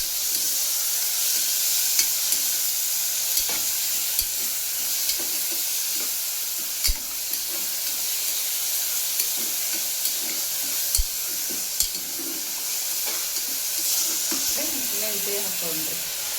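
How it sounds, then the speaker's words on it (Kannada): Steady sizzling and frying in a pan while fenugreek pulao is cooked, with a continuous hiss broken by occasional clinks and stirring knocks of a utensil, and a voice briefly near the end. "ಅಲ್ಲಿ ಚಲೋತ್ನಂಗೆ ಫ್ರೈ ಆಗಿರಿ"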